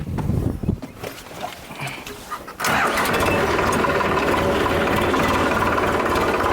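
A small farm tractor's engine fires up abruptly after a few seconds of faint clatter, then runs loud, close and steady.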